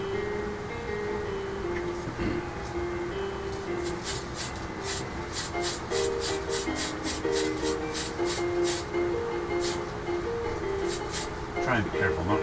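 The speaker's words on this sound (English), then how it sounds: "Try and be careful not to spray paint my hand." An aerosol spray can paints a 1/35 Tamiya Sherman M4A3E8 tank model, giving a run of short hissing bursts in quick succession, near and steady, with someone talking over them.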